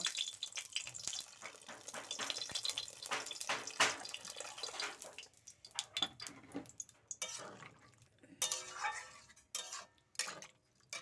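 Water pours into a pan of cooked, fried-down spices, a splashing, bubbling rush close by that breaks into a few separate splashes and gurgles toward the end.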